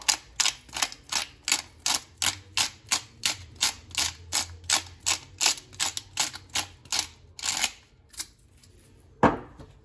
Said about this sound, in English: You should use whole peppercorns, but we don't have any, so I'm just going to coarsely grind